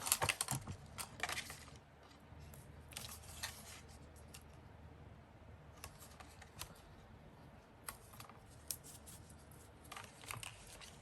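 Adhesive tape handled while crafting a dusty rose paper envelope journal: soft crinkles, taps and short tearing rustles, close and quiet, scattered irregularly with pauses.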